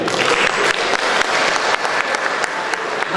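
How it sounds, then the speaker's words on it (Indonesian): Seminar audience at a national microwave, antenna and propagation seminar applauding, a steady dense patter of many hands clapping throughout with no voices over it. "Oke, tepuk tangan untuk semua."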